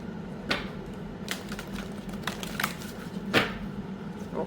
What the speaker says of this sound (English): I'm going to shuffle it.